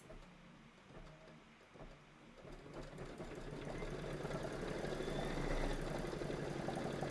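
An embroidery sewing machine stitching out a number 6 on a Kimberbell quilt block: a few soft taps, then a fast rhythmic mechanical whir that builds and holds steady, close and moderately loud with no talking.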